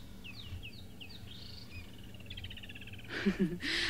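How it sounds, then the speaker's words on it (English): A bright blue bird with a bright beak calls on safari, giving a run of sharp chirps and a buzzy trill that sound somewhat distant. Insects and frogs hum beneath, and a rougher noise burst closes the stretch. "when you hear this bird call, it's so loud it feels like it's almost above you"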